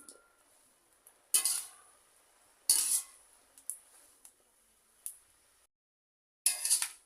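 Bottle gourd greens are stirred and mixed in a pan, giving several brief metallic scraping clinks of a utensil against the pan, separated by quiet gaps.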